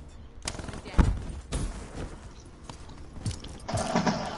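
Gunfire from the Black Ops 3 video game: bursts of shots and mechanical clatter in uneven bursts, some rounds whizzing and ricocheting close by, with game ambience underneath.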